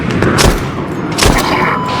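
Heavy machine gun fire in the video game Arma, a loud continuous rapid burst of shots with heavier booms at intervals, close and dense.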